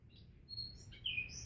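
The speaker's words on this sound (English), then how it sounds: "Oh, how sweet is the sound of a bird singing to you" A small bird sings a string of high, thin chirps and whistled tweets, close and fairly soft, over a low background hum.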